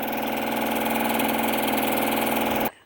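A small outboard motor on a sailboat runs steadily nearby with an even, buzzing drone, then cuts off abruptly just before the end.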